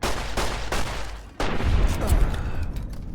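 Heavy gunfire in the video game Fallout: New Vegas, a dense, loud barrage of shots and blasts that briefly drops out and resumes, with a voice speaking over it.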